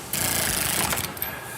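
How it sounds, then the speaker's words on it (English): Power tool spinning lug nuts down onto a Cragar wheel of a 1969 Road Runner, one loud continuous whir close by that eases off near the end. "we can use our power tool to run them down."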